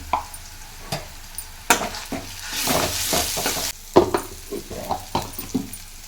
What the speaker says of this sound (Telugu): ఇప్పుడైతే మనం దీనిలోనికి వన్ టేబుల్ స్పూన్ అల్లం వెల్లుల్లి పేస్ట్ అనేది యాడ్ చేయాలండి అలాగే పసుపుని కూడా యాడ్ చేస్తున్నాను